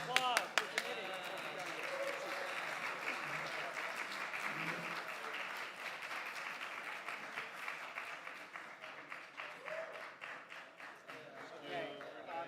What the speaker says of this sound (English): Round of applause for the committee.